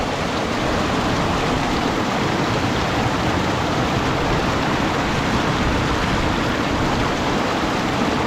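Cold glacier meltwater stream in the Astore Valley rushing steadily over rocks, a loud, continuous broadband roar of flowing water heard close up with no voices.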